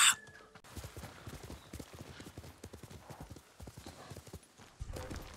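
The horse Sora gallops in Ghost of Tsushima, producing a steady, close clip-clop of hooves in a fast rhythm after a brief loud burst at the start, with faint background sounds.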